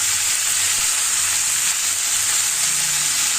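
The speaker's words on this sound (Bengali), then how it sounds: "এবার এর মধ্যে আমরা অল্প পেঁয়াজ আদা বাটা দিয়ে দেবো।" Onion-ginger paste sizzles loudly in hot oil with already fried onions for a bata fish curry, a dense, continuous close crackle with no talking.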